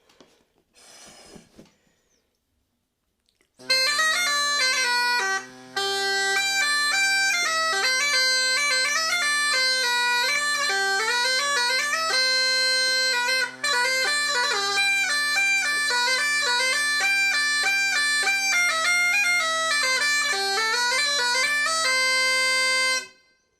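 A bagpipe chanter in G plays a lively mid-17th century English country dance over a steady drone, bright and loud, starting after a few seconds of near silence and running continuously with one brief break.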